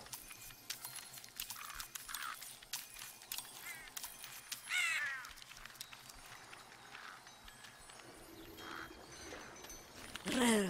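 Crows cawing in the game Tearaway Unfolded, with scattered faint caws and short clicking sounds over a quiet background, ending in a louder closer burst.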